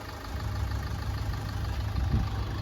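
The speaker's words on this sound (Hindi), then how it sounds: "तो भाई इंजन डीजल इंजन है, वो भी टोयोटा का इंजन है, दहाड़ता तो है ही।" A Toyota diesel engine with about 200,000 km idles with a steady low rumble and faint knocking, heard up close with no talking.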